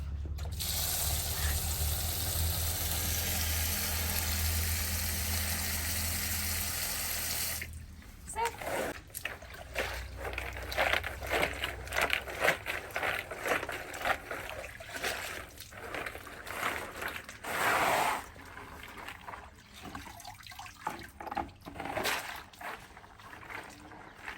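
Walnuts in a mesh bag are washed in a bucket of water: a steady rushing hiss gives way to irregular sloshing, splashing and rattling of the nuts at close range.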